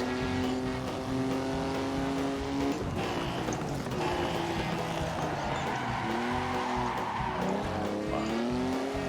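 Vintage 1955 Formula 1 cars, a Vanwall and a Lancia, race in Assetto Corsa at Argentina, engines howling loud and continuous with rising and falling pitch through shifts, plus tyre squeal as they corner hard.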